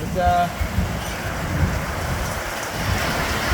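Heavy rain pours down outdoors in a dense, steady hiss with a low rumble underneath, loud and continuous, and a brief tone sounds at the start.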